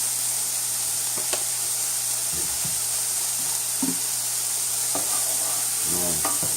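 Food sautéing in a pan over medium-high heat, a steady hiss of sizzling with a low hum underneath and occasional spoon scrapes and clicks, close, no talking.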